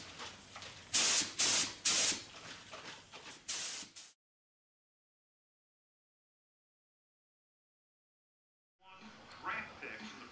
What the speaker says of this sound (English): now we're just going to shoot this solvent through the gun to clear the nozzle a little bit